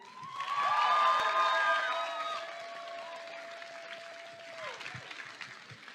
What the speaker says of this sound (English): can we get another round of applause for the volunteers here?